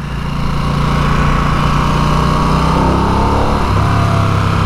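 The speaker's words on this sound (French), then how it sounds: "Vous entendez le son quand je redescends?" A Harley-Davidson Nightster engine drones loudly and steadily, then its pitch drops as it downshifts near the end.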